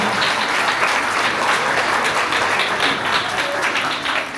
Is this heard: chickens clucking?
no